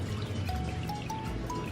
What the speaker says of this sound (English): I'm gonna add the water